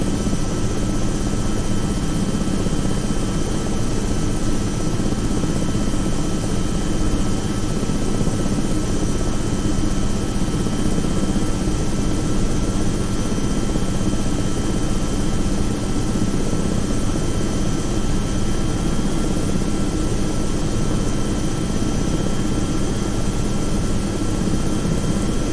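An aircraft in the X-Plane 11 flight simulator roars steadily through its takeoff, a loud, continuous engine drone with no break and no voices.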